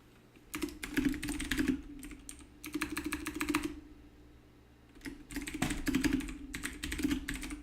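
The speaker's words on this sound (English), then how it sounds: "Don't mind the tapping of the keyboard." Keys clatter on a computer keyboard in close, fast bursts of typing, separated by short pauses, over a steady low hum with no one speaking.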